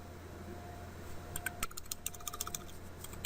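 Computer keyboard keys tapped to enter a command on a Cisco ASA 5510 firewall console, a short run of light clicking keystrokes starting after a quiet hum, close and soft.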